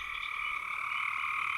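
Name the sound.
frog calling at night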